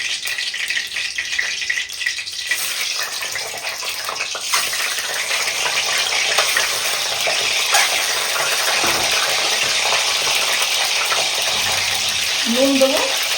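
Duck eggs sizzling and frying in hot oil for a Bengali duck egg curry, a steady broad crackle and hiss held close throughout, with a brief higher squeal near the end.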